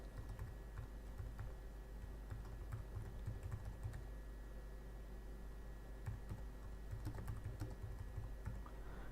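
An email address and password are typed on a computer keyboard, with a steady run of soft, close keystroke clicks continuing throughout at a quiet level.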